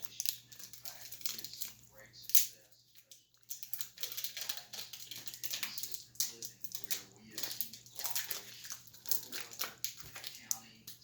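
A chocolate bar wrapper is cut and torn open by hand, giving close, soft crinkling and rustling that comes and goes under someone speaking.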